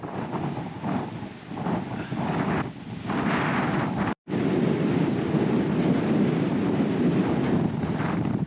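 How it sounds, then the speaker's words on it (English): Strong mountain wind in Spain roars steadily and loudly into the microphone, with gusty buffeting and a brief dropout midway. "Holy shit, that's windy."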